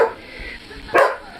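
A dog outside lets out a single sharp bark near the end, loud and fairly close, after a stretch of quieter background with faint earlier yips.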